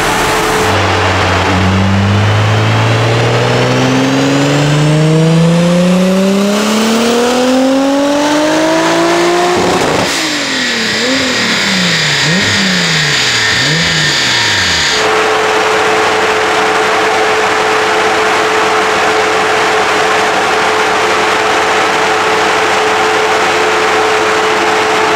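A Renault R28 Turbo engine with an oil-soaked clutch revs hard and close, climbing steadily through several pitch rises, then blipping up and down before settling into a loud steady idle.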